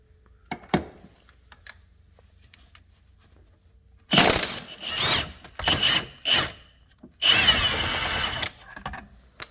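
A power impact wrench hammers at 17 mm shock absorber bolts on a 2013 Hyundai Elantra rear suspension, firing in several loud, rattling bursts separated by short pauses after a quiet start.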